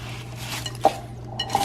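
Spoon gently folding marshmallows into butterscotch haystack mixture in a bowl, soft scraping with a few light clinks of utensil against the bowl, close and quiet.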